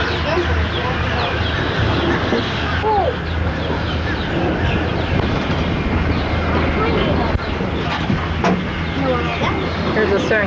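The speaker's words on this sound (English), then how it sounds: "Serengeti plain where we take the train around." Rumbling ride on the train circling the Serengeti Plain exhibit at Busch Gardens, Tampa, in 1989, with a steady close mechanical drone and clatter throughout, occasional squeals, and voices chatting over it.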